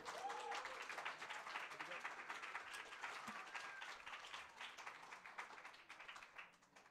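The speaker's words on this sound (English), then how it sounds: "Let's give Dom another round of applause." An open mic audience claps steadily for a performer throughout, a broad, busy patter of many hands that holds level before easing slightly near the end.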